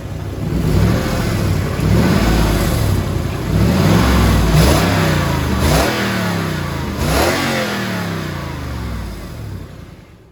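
A 2002 Lexus LS430 engine with a welded-up exhaust revs repeatedly, rising and falling in several loud bursts over a rumbling idle, close by with no talking.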